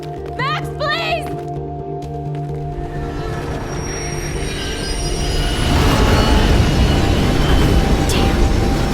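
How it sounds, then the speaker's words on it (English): A train rumbles along the tracks and thunders past at Train Tracks in the game Life Is Strange, wheels squealing and growing louder as it nears, with a voice calling out early. "Train's coming!"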